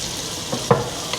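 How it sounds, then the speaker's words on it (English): Chicken sizzles in a hot oiled pan for a Cajun chicken dish, a soft steady frying hiss broken by a couple of brief stirring or scraping knocks, with no talking. "we're going to put the chicken in, sizzles up nicely, and we're going to seal that."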